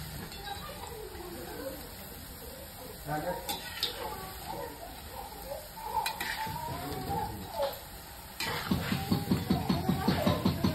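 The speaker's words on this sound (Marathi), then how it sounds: "छान असे भजी आपल्याला तळून घ्यायचे ते दोन्ही साईडला." Kadi bhaji pakoras frying in oil, a low background sizzle with occasional clinks of a utensil against the pan, then a denser crackling burst near the end, with a voice talking through part of it.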